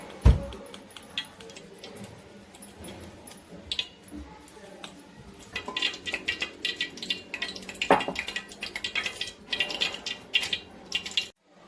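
Four cups of maida for shankarpali are sifted through a sieve in a home kitchen, making faint rustling and quick rhythmic tapping that grows busier in the second half, close by but quiet.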